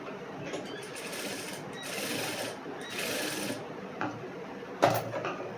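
A sewing machine runs in steady bursts, stitching blouse fabric laid over its lining, its mechanical whir rising and pausing through the span, with a sharper clunk of the mechanism near the end.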